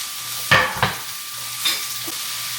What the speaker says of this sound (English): So I'm going to throw the peppers and onions in with the sausage.